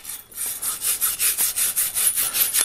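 A 3/8 pipe cleaner scrubs back and forth inside a golf club shaft, making a close, rhythmic raspy rubbing with about a dozen even strokes and no talk.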